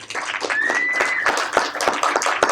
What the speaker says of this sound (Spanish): Lo podemos recibir con aplausos si se copan